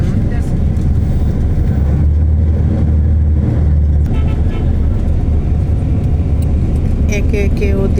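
A bus creeping slowly through a traffic jam after Narsingdi, Bangladesh, in drizzly weather, steady loud engine drone and road rumble from inside with a brief idle hum, faint voices in the background.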